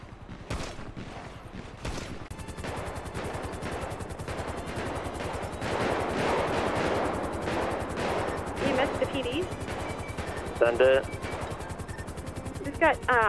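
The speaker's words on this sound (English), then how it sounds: "Automatic gunfire outside of the log." Automatic gunfire rattles in bursts during a six-versus-six gang battle in the video game GTA 5, layered with voice chat and broadband combat noise, with sharper cracks near the start and late in the clip.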